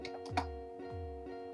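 Typing on a computer keyboard, a few soft clicking keystrokes at an uneven pace, close and quiet over a steady electrical hum.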